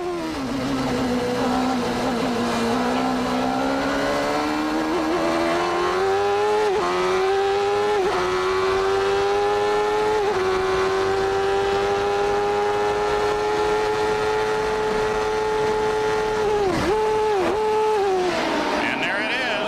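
IndyCar race cars at speed during the 1993 Pioneer Electronics 200, a loud sustained engine whine that climbs in pitch with several quick lifts and gear changes, under continuous commentary.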